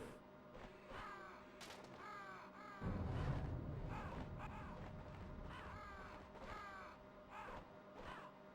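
Crows in Metal Gear Solid, played on a Dreamcast, give repeated harsh caws at a steady pace. A low rumble swells partway through, and the calls keep going over it.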